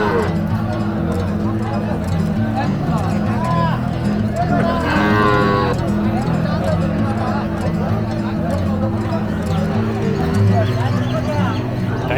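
Cattle moo amid a busy Qurbani cattle market in Kaitla, Mirzapur, Tangail, with livestock sounds mixed into constant crowd noise and nearby voices talking over the whole stretch.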